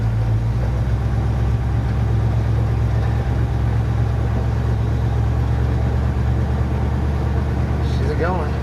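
A Pontiac Firebird that had sat since 1995 drives for the first time, its engine giving a loud, steady low rumble that runs unbroken throughout.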